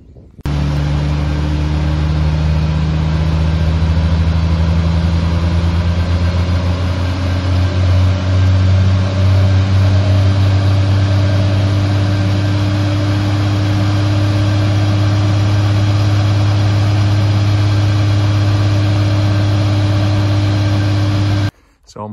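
A Triumph TR6 engine runs steadily on a rolling road, a loud continuous low drone with rising tones as the revs climb, sustained for about twenty seconds before cutting off abruptly.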